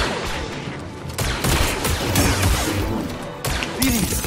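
Blaster gunfire from a firefight in the Star Wars Jedi Survivor video game: dense, loud volleys of rapid shots and crackling impacts fill the whole stretch, with faint game voices mixed underneath.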